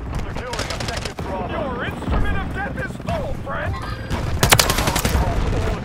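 Gunfire crackles in Call of Duty: Modern Warfare III, bursts of automatic shots mixed with shouted voices, with a loud close volley near the end.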